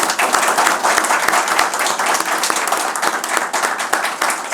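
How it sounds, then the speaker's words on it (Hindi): An audience at a Bihar discussion event on water, sanitation and hygiene in urban climate action breaks into sustained, dense applause for a team member, steady and close with many hands clapping at once. "आपके लिए तो ताली बनती है"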